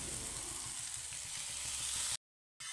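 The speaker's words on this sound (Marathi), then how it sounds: "डाळ थोडीशी परतवली। आता याच्यामध्ये मेथीची भाजी घालून घेऊ।" Moong dal with fenugreek leaves sautés in a kadhai, giving a steady, soft frying hiss with faint stirring. The sound cuts to silence briefly near the end.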